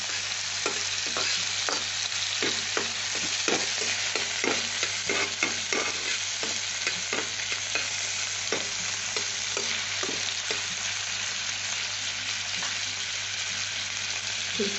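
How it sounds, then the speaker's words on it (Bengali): Bitter gourd and shrimp fry in a pan with sugar and are stirred steadily, a loud continuous sizzle broken by repeated scraping strokes of the spatula throughout, with no voices. "চিনি দিয়ে আমি নাড়ছি"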